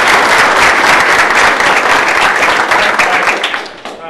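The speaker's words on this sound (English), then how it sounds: "Let's give him a round of applause." An audience applauds a guest coach, former NFL coach Marvin Lewis, at a Springboro football team gathering: dense, loud continuous clapping that holds steady, then tapers off near the end.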